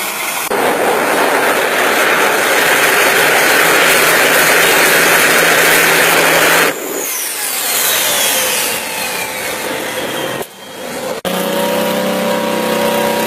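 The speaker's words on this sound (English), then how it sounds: "It's a jet go-kart." Jet-powered go-kart at a retro motorsport festival on a race circuit, a loud sustained roaring whine that runs steadily, then drops and shifts pitch with a sweeping tone, ending in a lower idle hum.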